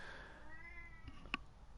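A pet cat meows softly in a quiet room, a single short drawn-out call followed by a faint higher chirp, close but low in level.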